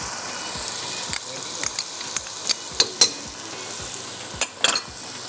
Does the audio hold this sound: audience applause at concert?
no